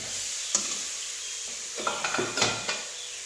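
Fish curry of fried kawai fish with greens, ginger, garlic, chilli and onion cooking in a pan, with faint steady sizzling and a few close clinks and stirring scrapes of utensil against the pan.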